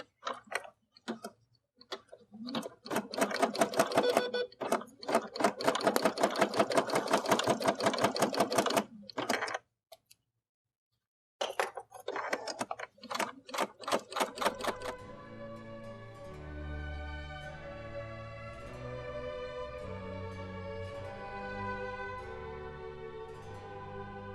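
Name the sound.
embroidery machine stitching a perimeter baste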